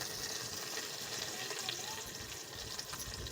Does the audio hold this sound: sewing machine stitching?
no